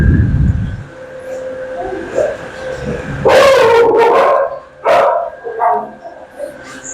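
Dogs in animal shelter kennels in the Cayman Islands, with loud overlapping barks bursting out in a cluster midway and a few more barks after, over steady kennel background noise and a person talking.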